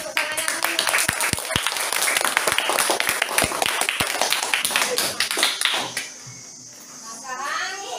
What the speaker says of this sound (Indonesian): Beri tepuk tangannya dulu.